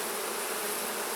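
Honey bees buzz densely and loudly, a continuous agitated hum as they are shaken into a sample basket for a mite count.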